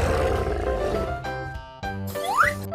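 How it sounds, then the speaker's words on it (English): A tiger roars loudly and close, a rough rumbling growl that swells and then trails off into tonal, fading notes, with no talking. "Tiger."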